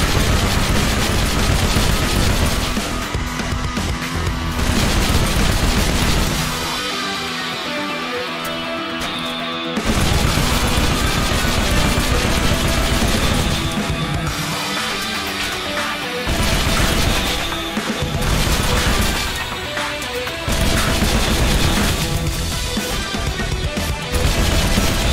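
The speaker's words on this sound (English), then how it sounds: "you can shoot around walls or floors, and the projectiles will bounce depending on the distance" Spiker weapon in Halo Reach firing rapid bursts of bouncing projectiles, loud dense volleys of clattering shots in several long bursts separated by brief pauses.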